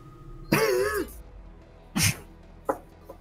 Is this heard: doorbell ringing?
no